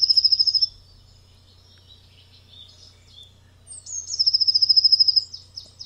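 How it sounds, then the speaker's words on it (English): A blue tit sings in two bursts of rapid, high, repeated notes, a brief phrase at the start and a longer one near the end, clear and close against a quiet background. "We're going to start off today with a classic, the blue tit."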